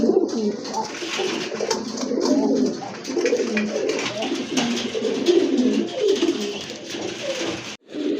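Black Lahori pigeons coo in repeated soft, throaty rolling phrases, close and fairly loud, several birds overlapping continuously with a brief break near the end.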